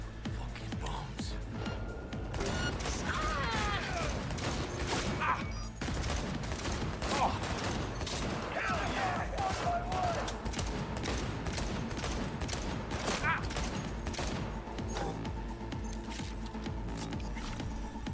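Bomb blasts and rapid gunfire in a multiplayer action game, with dense bursts of explosions and shots running continuously under a player's talk.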